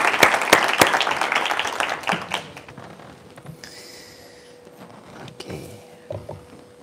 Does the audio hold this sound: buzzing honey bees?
no